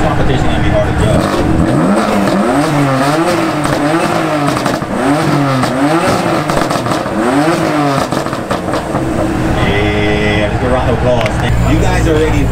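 BMW car with its exhaust valves open, revving repeatedly at a BMW meet in Melbourne, loud rising and falling engine sweeps close by, with voices and crowd noise around it.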